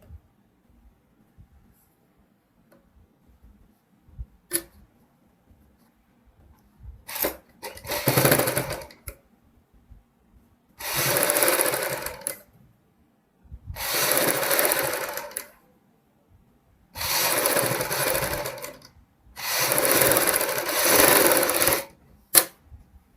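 A sewing machine stitches a kurti neckline in five short, even bursts of whirring separated by quiet pauses, with faint handling clicks between runs.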